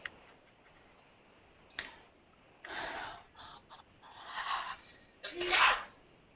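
Several sneezes in a row, some sharp, some breathy and muffled, close but fairly quiet in an indoor room, with pauses between them and soft talk nearby.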